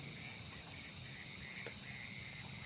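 Crickets chirp at night in an outdoor field, a dense, continuous high trill that stays steady and fairly faint with no voices.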